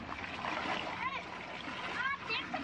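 Children splashing in water at a village tube well, a steady outdoor splatter with lively kids' voices and chatter over it.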